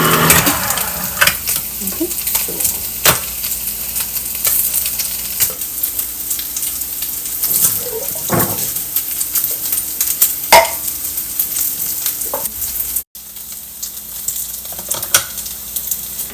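Paneer frying in a pan, a close, steady sizzle broken by clinks and scrapes of a spatula stirring against the pan, with a brief dropout near the end.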